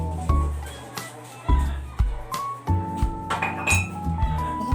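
Glasses and plates clink and knock together in a sink as dishes are washed, sharp irregular clatters close by with running water and some low voice in the background.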